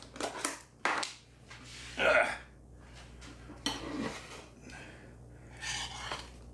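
Curry spices including garam masala being mixed in a tub for a vindaloo, with scattered rustling, crunchy scrapes and dull knocks at close range and a few breathy sounds between them.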